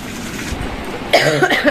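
A woman with a cold gives a single short, throaty cough after about a second of muffled background noise. The cough is close and fairly loud.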